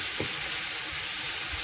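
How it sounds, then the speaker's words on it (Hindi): Food mixed with tandoori masala being stirred, a steady hissing sizzle with faint soft scraping strokes, close and continuous. "अच्छी तरह इसको मिक्स कर लेंगे।"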